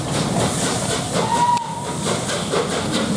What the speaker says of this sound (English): There, whistle, mate. Whistle.